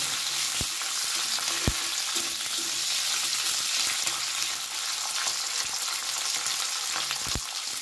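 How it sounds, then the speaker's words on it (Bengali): Diced capsicum stir-fried in hot oil for chilli paneer gives a steady, close sizzle that holds throughout, broken by a few sharp clicks of the spatula against the pan. "দিয়ে দিলাম ডুমো করে রাখা ক্যাপসিকাম। ভালো করে কয়েক সেকেন্ড আমি একটু নেড়ে নেব।"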